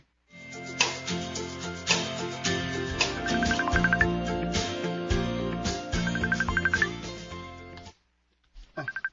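A mobile phone plays a loud, melodic ringtone with a steady beat and chiming tones for about eight seconds, then cuts off, leaving faint handling noise.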